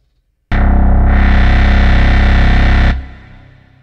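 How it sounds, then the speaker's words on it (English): Dark wet retro bass synth preset from Audiaire's Zone synthesizer holds one loud, distorted, effect-heavy note for about two and a half seconds, then cuts off into a short reverb tail. "So let's try dark wet retro bass."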